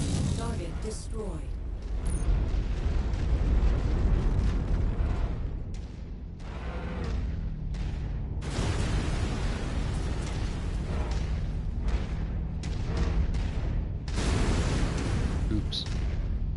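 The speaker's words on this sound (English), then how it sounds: "It's a whole lot of explodey stuff." Explosions and heavy mechanical clanking from MechWarrior 5: Mercenaries battle, loud sustained booms and rumbling debris in bursts across the whole stretch, with a voice talking over it at times.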